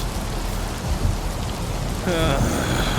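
Steady heavy rain pours down in a Red Dead roleplay game, a dense continuous wash with faint distant rumble, and a brief tonal chime rising near the end.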